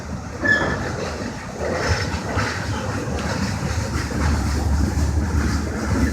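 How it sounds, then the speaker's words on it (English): A slow CSX freight train of trash cars rolls past on the Trenton Subdivision, a steady close rumble with faint clanking and wheel noise throughout and no talk. "It's like literally the slowest train I've seen there at all."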